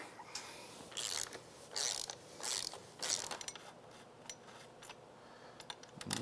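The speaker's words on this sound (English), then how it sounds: "Get our axle nut removed." A wrench works the axle nut off a Kawasaki KLX110 pit bike, giving several bursts of ratcheting clicks and metallic turning that are faint and close, with short pauses between them and no voices.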